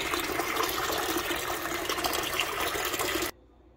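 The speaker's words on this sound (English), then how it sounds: "So now I'll soak them in clear tap water overnight because I don't want them to be too salty." Tap water gushes steadily into a container for fish fillets, a loud, even rushing stream that stops abruptly near the end, with no talking.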